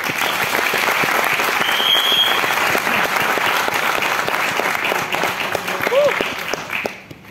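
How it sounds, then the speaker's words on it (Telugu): An audience claps for an upcoming company presentation, a loud, sustained burst of applause that fades out near the end, with some voices mixed in. "ఒకసారి గ్రేట్ క్లాప్స్ అండి"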